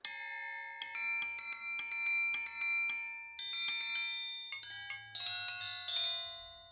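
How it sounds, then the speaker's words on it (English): An orchestral triangle is struck repeatedly in quick irregular bursts, each hit ringing with high shimmering overtones that decay between strikes. "Oh, and the triangle."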